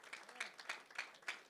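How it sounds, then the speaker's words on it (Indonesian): A church congregation claps along during a sermon, giving a soft, fairly distant patter of hands with a loose rhythmic pulse that lasts a moment. "Tepuk tangannya yuk buat Tuhan kita"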